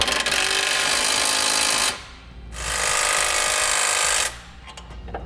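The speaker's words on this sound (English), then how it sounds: "I'm going to come back with a 9/16 wrench and socket and snug up all my 3/8" A socket tool snugs up 3/8 hardware on a Blue Ox base plate kit for a 2017 Subaru Forester, giving two loud, buzzing bursts of about two seconds each, separated by a short pause, close by.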